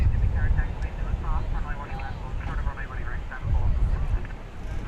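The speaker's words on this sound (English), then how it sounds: "There'll be a 747-400, 23 years old. We'll be seeing that in just a second." A 23-year-old Cargolux Boeing 747-400 cargo jet arriving at DFW from Anchorage, its engines a steady, fairly loud low rumble heard from the ground, with people talking faintly over it.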